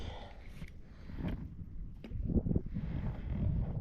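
Wind blowing at sea around a small fishing outing buffets the microphone with a low, rumbling roar, fairly soft at first and gusting stronger in the second half, with no speech.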